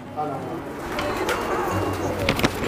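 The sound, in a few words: fantail pigeon chicks cooing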